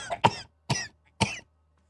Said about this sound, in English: I don't know why Sheen has a smoker cough.